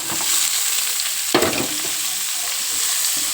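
Green chillies and onions hit hot oil with a loud, continuous sizzle, with one brief burst of spattering and stirring partway through.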